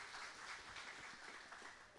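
A church congregation applauds during a Sunday school service, a steady, dense wash of clapping from a crowd that holds at an even level throughout without any speech.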